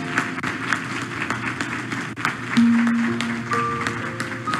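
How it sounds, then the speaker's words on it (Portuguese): Outdoor crowd of devotees at a Marian apparition gathering applauding Our Lady, a scattered, moderate clapping mixed with murmuring and tonal background sounds. "Quem está vendo Nossa Senhora, aplaude Nossa Senhora bem forte."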